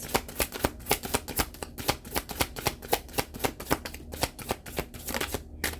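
Tarot cards are pulled from a deck in a quick run of crisp flicks and slides, many short papery snaps in close, steady succession with no voice over them.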